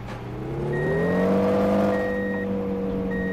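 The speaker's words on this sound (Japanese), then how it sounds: "はい、フォークリフト。" A forklift engine in a logistics simulator video game hums steadily, its pitch climbing as it revs up, then holding at a sustained, fairly loud drone with no talk over it.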